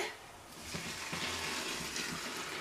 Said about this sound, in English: This is that 3 litres of boiling water